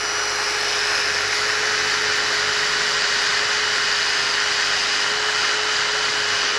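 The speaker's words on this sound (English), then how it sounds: "I might even get a little grinder out." A small grinder working the rusty exhaust of a motorcycle under restoration, a steady high-pitched whine with a constant tone, loud and unbroken throughout with no talk.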